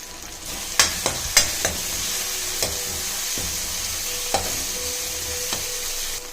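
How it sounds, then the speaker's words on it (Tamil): Garlic, curry leaves and turmeric sautéing in a pan for a colocasia (cheppankilangu) curry, with a steady soft sizzle broken by a few sharp clinks and scrapes of a stirring spoon, close and alone. "இதில் இந்த பூண்டு வாசனை போகிற வரைக்கும் வதக்கணும்"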